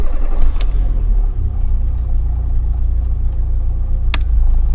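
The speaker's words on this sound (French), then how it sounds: "je vais démarrer la voiture. On va entendre le coupleur séparateur, on va entendre un petit clic" A van's engine cranks and catches at the start, then settles into a steady low idle rumble, with a faint click from the battery coupler heard partway through.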